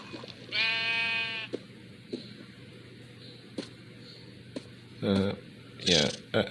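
Sheep bleating in Minecraft Bedrock Edition, a near, drawn-out bleat followed by shorter calls, with faint game ambience and clicks between them.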